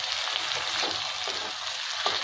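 Chopped tomatoes sizzle steadily in a hot pan with ginger-garlic paste for Kashmiri-style chicken, a continuous bright frying hiss with faint scrapes of stirring.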